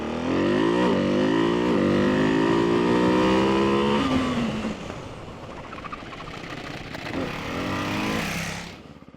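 A single-cylinder supermoto, either a Ducati 698 Mono or a KTM 690 SMC R, revs hard and loud close by, then its engine note drops and falls away as the bike brakes and slides into a corner, with a brief rev before fading.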